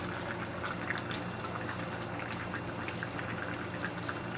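Tomatoes, peppers and onion go into a thickening, simmering fricassee chicken sauce with potatoes, giving a steady soft sizzle and bubbling with small wet pops, close and fairly quiet, no talking.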